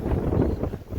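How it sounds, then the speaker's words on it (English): Strong wind blows outdoors after a storm, a rough, gusty rumble buffeting the microphone in a short, continuous burst. "It's still pretty windy out here."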